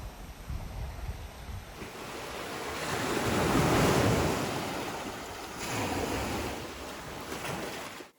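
Ocean waves surge and wash onto White Sand Beach in Oman, a beach with small lagoons, swelling to a loud crash midway and again near the end, with steady wind noise buffeting the microphone throughout.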